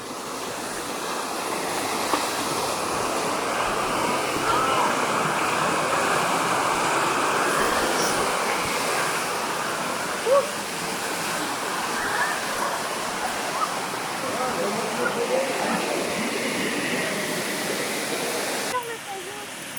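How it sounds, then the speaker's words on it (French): River water rushes continuously at a riverside picnic spot, a broad, steady wash of flowing noise that holds level throughout with faint voices now and then. "le bruit de l'eau, moi j'adore"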